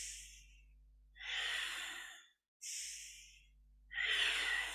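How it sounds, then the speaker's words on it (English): Deep, slow breathing during kundalini yoga, close and quiet, with long inhales and exhales alternating in a steady rhythm and brief pauses between them. "take a nice deep breath"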